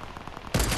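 A sudden, loud burst of gunfire in the Fortnite video game breaks in after a quiet moment and continues to the end of a very short stretch.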